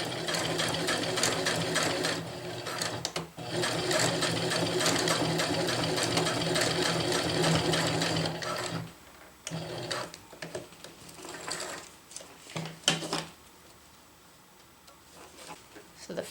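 A sewing machine stitches a water bottle carrier cage in place, running in a long steady rattling burst, then stopping and restarting in shorter runs with pauses between.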